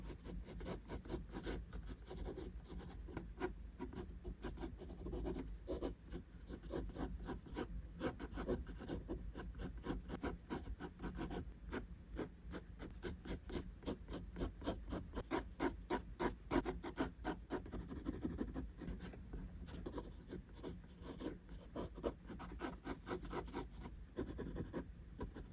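A pencil drawing and shading outlines on paper, a faint, continuous close scratching with rapid back-and-forth strokes running throughout.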